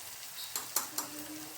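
A spice mix of turmeric, salt, coriander-cumin powder and red chutney powder is stirred in a pan, giving three short scraping strokes over a soft, steady sizzle.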